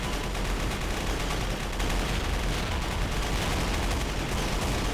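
Dense, continuous machine-gun fire in Warcraft 3 Reforged, with rapid bursts and explosion booms filling the whole stretch, loud and close, with no voices.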